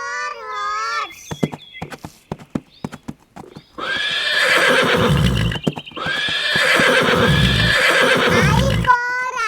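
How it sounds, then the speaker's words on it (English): A horse whinnies loudly, then hooves clip-clop in a steady, close rhythm through two long bursts, with brief high sung tones at the start and end. "H for horse"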